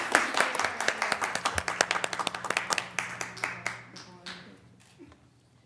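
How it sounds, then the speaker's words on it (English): A small group claps for a newly sworn school board member at an organizational meeting, crisp individual hand claps close by, building briefly and then tapering off into scattered claps. "I'll give you all a round of applause."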